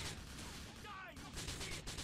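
Gunfire in the video game GTA 4 keeps up as a dense, continuous barrage of shots and booms, loud throughout with only a brief dip in the middle.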